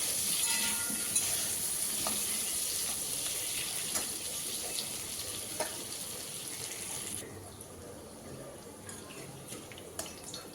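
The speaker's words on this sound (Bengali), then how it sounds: "আলুগুলো প্রথমে একটু ভেজে নামিয়ে নেব।" Three cut potatoes sizzle in hot oil in a pan, a steady, fairly quiet hiss with small pops and occasional stirring clicks that softens toward the end.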